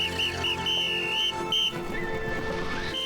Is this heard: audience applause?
no